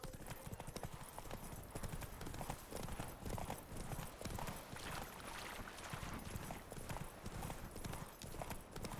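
Horse hooves gallop in a fast, steady clip-clop rhythm in The Witcher 3: Wild Hunt, loud and continuous over game ambience, with a faint whinny.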